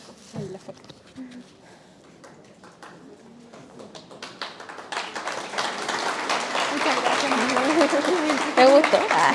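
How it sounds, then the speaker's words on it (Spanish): Audience applause at an autism (TEA) seminar in Colina, rising from scattered claps beneath voices into a dense, loud, sustained ovation. "Un gran aplauso."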